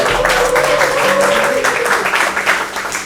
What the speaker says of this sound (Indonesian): tepuk tangannya gede ya langsung ya gitu.